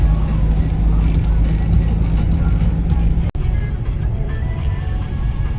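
A hay-loaded truck drives along the road out of Aksaray toward Konya, shedding straw as it goes. It gives a steady, close low rumble of engine and road noise, briefly cut off once, with faint voices beneath.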